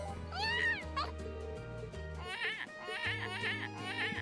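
Black cat in the video game The Legend of Heroes: Trails of Cold Steel, found near the Academy Field entrance, giving several high, wavering meows, one long cry and then a quick run of shorter ones over game background music.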